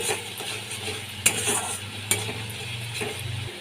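Spices with turmeric, salt and cumin powder being stir-fried with a paste, a soft sizzle under repeated scraping and stirring, with a couple of sharper clinks of a spoon on the pan, close by.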